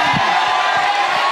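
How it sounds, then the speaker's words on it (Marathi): Live audience at a Marathi stand-up comedy show cheering and whooping as one loud, continuous crowd roar filling the whole moment, with scattered shouts rising above it. "एकदा जोरदार टाळ्या वाजवा बियुनिकसाठी"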